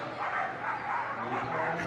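Excited dogs at a Crufts flyball team semi-final, a black Labrador among them, barking and yipping over a loud, continuous crowd and arena din, the barks blending into the steady background rather than standing out singly.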